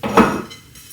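Metal cooking pot handled in a home kitchen, giving a single bright clank near the start that rings briefly and fades, close and alone.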